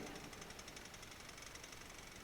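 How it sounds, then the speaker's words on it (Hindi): A steady, rattling engine drone runs throughout with a rapid mechanical knock, like a tractor idling nearby; no voices. "कुछ ट्रैक्टर चल रहा है ऐसा लग रहा है।"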